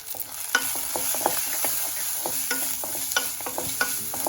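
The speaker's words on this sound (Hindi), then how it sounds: "इन सबको हम मिक्स कर लेंगे।" Kadhai paneer masala with salt and coriander stirred in a kadhai: repeated scraping strokes of a spoon against the pan in a steady rhythm over a faint sizzle, close and without voices.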